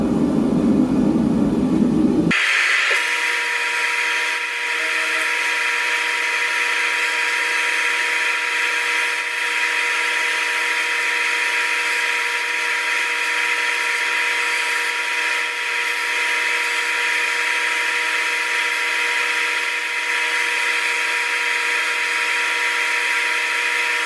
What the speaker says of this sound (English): Now I just gotta grind the handle material down to the profile of the blade.